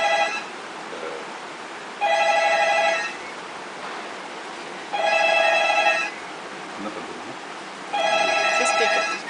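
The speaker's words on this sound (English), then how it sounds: "I'm sorry, there's a phone." A telephone rings indoors in repeated electronic trill bursts, each about a second long, with silent gaps between them, over a faint steady hiss.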